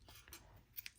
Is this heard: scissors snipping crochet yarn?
yes